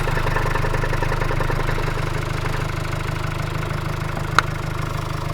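The two-litre diesel engine of a 2020 Mercedes-Benz Vito van idles steadily nearby, a low rhythmic clatter with a constant hum, joined by a single brief click near the end.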